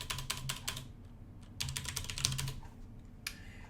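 A computer keyboard clatters as a new folder name is typed, quick bursts of crisp close keystrokes separated by brief pauses, quiet and alone.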